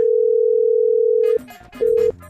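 A telephone dial tone hums loud and steady while a call is placed, breaks off briefly under a burst of other sound, then returns for a short stretch.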